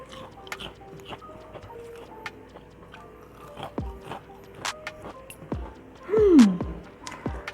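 Crispy onion pakoda chips crunch between the teeth in several separate bites, each a sharp, close, brittle crackle, with quieter chewing between them.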